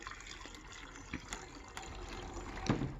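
Liquid pouring into a cup, a soft trickling and splashing under faint room noise, with a brief gush near the end and a few light clinks.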